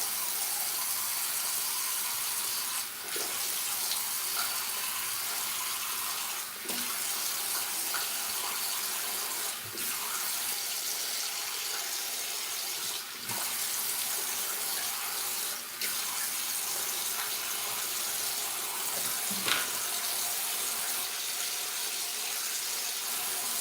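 Steady rush of tap water splashing into a sink during shampoo bar lathering, with faint clicks and brief dips as hands move under the stream, continuing without pause throughout.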